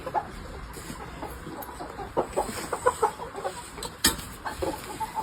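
Chickens cluck in a series of short, uneven bursts close by, with a few sharper squawks rising over a quiet farmyard background.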